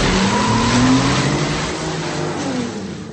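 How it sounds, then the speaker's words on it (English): The supercharged engine of a 1999 Nissan Maxima from Fast and Furious revs loudly up and down, its pitch climbing and then falling away over a few seconds with no speech. "But it's Vince's 1999 Nissan Maxima."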